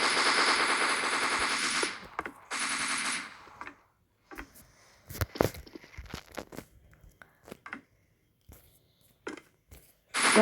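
Rifle fire in a zombie shooter video game rattles in two loud rapid automatic bursts at the start, followed by scattered single sharp shots and clicks with gaps of quiet.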